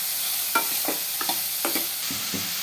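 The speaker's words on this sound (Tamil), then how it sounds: "இப்போ வெங்காயம் போட்டதுக்கு அப்புறமா நல்லா நம்ம வந்து மிக்ஸ் பண்ணி விட்டுடுவோம்." Spoon scraping through sliced onions and green chillies frying in a pan, with about half a dozen distinct stirring strokes at an uneven rhythm over a steady, close sizzle and no talking.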